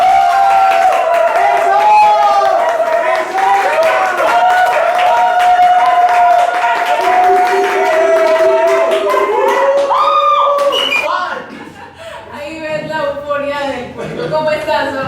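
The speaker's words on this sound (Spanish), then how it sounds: "recibamos con un fortísimo aplauso a Oscar Corredor" An audience in Medellín applauds to welcome storyteller Oscar Corredor, sustained clapping under a voice speaking over it, then the applause thins out as talk continues.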